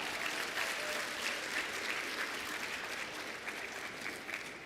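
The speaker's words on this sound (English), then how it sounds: "Give yourselves a round of applause." Sustained audience applause fills a conference keynote hall, a dense, steady wash of many hands clapping at once that holds for several seconds and eases slightly toward the end.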